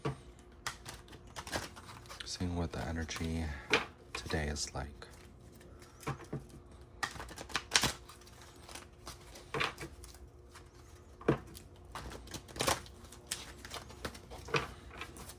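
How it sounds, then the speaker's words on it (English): Tarot cards are shuffled in soft, irregular riffles and taps, close by, with a person speaking quietly in between. "Shuffling the cards."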